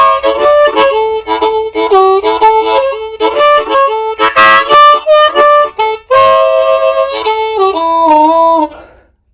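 A blues harmonica in second position plays a lick slowly, with bent, wailing notes and choppy breathy phrases, loud and close, ending on a held note with no talking.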